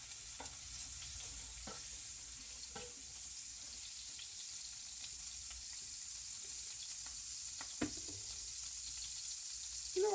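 About a teaspoon of Country Crock margarine melts in a skillet, giving a steady soft sizzle with occasional scraping and stirring clicks throughout.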